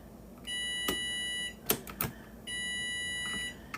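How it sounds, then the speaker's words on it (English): A timer beeps in a steady, high-pitched electronic tone, sounding in two sustained bursts of about a second each. Between the bursts come a few sharp clicks and knocks in a room where a computer server is being scrapped. "All right, timer, I hear you."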